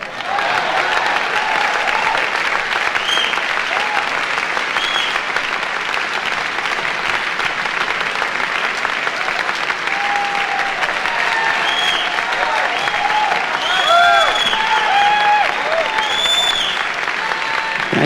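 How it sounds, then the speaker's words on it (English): A 1985 town hall audience gives long, steady applause welcoming saxophonist Hank Mobley onstage, dense crowd clapping with a few whoops and cheers rising near the end. "I'd like you to give him a round of applause and bring him out"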